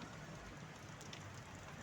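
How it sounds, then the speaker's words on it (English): Steady rain falling in the countryside, a faint, even hiss of drops spread across the whole moment with no other clear sounds. "But now it's raining here in the country where I am."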